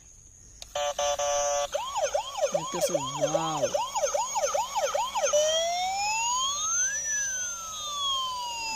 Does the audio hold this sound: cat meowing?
no